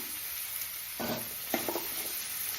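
Drumstick pieces sautéing in a pan for vegetable aviyal, a low steady sizzle with two brief bursts of stirring and scraping.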